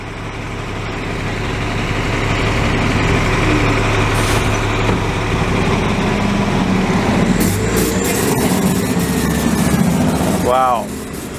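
An older Montreal city bus's large diesel engine idles loudly and steadily nearby, a deep continuous rumble with a brief hiss and a squeal near the end.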